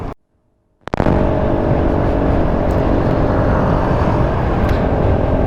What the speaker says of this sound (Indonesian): kita salip truk dulu, hati-hati, kita ikutin truk dulu ya, ikutin truk